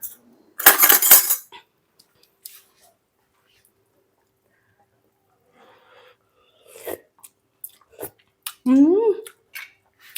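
A spoon dips into blended seasoning for Thai tom yum with tilapia, giving a sharp metallic clink and scrape up close, then quiet pauses, small mouth sounds from tasting and brief vocal noises.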